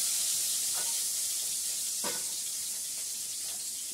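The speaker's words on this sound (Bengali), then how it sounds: "আলুটা ভেজে নেবো ভালো করে" Potatoes frying in a pan give a steady close sizzle and hiss, broken by a few soft scraping stirs.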